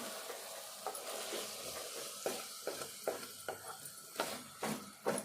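Chana dal and tomato curry frying in a pan is stirred, giving a steady soft sizzle broken by about a dozen scraping stirs that grow louder and closer toward the end.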